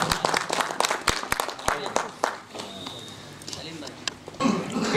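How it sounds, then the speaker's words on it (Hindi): Applause from the audience at an Urdu poetry gathering (mushaira) welcoming a poet, heard as a burst of clapping that thins out under continuing speech. "एक मरतबा जोरदार तालियों से उनका इस्तकबाल कर देते"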